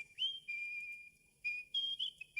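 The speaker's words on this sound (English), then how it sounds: "He sat in his palace and whistled his ruby whistle." A clear, high whistle is blown in several short and long blasts, near and fairly loud, with brief silences between them.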